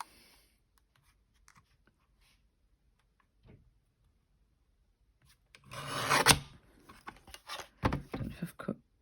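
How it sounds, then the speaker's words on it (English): A mini paper trimmer cuts through card, giving a short, close scraping and rasping slide after a near-silent pause, followed by a few sharper rubbing strokes. "I'm going to grab my mini trimmer and just see if I can cut this down"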